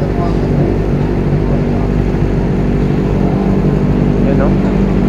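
Motorcycles idle and rumble while boarding a ship, with a dense, steady engine drone and low mechanical hum close by, as people talk over the noise.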